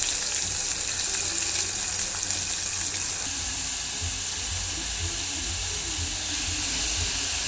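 Onion frying in hot oil with cumin, garlic and curry leaves, a steady broadband sizzle and hiss that stays loud and even throughout, with no talking.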